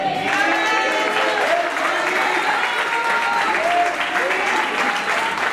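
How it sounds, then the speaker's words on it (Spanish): A crowd at a school graduation ceremony applauds loudly and continuously, with cheering voices and a speaker audible over the clapping throughout. "Fuerte el aplauso."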